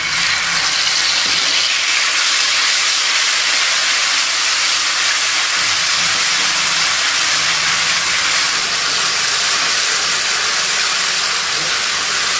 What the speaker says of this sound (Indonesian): Kita mau numis bayam.